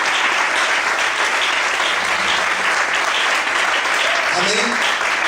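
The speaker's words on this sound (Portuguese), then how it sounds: "Você pode desocupar a sua mão e aplaudir ao Senhor nesta noite" Congregation applauding during an evening church service, a steady dense wash of clapping filling the room, with a few faint voices rising over it near the end.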